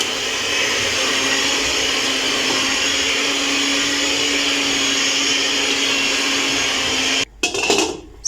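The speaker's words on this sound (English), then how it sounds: "I'll be using my hand mixer to do the" Hand mixer whirring steadily through mashed potatoes, loud and close, a constant motor drone that cuts off near the end followed by a short clatter.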